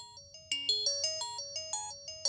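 A mobile phone's melodic electronic ringtone plays a quick series of bright repeating notes, clear and alone, in a Kannada comedy film scene.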